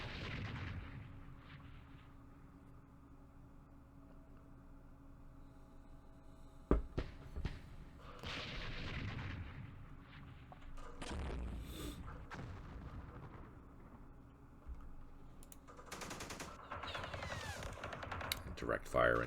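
Mortar fire in the Vietnam war game Campaign Series Vietnam, at the Battle of Khe Sanh Village 1968: dull, distant booms and rumbling bursts spread across the clip, with several sharper cracks near the end.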